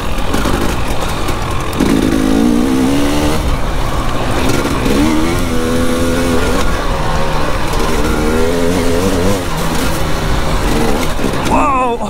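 Enduro dirt bike engine held at full throttle in third gear on wide open trails, a loud, steady, close engine roar with rising pitch sweeps, with a rider's voice mixed in.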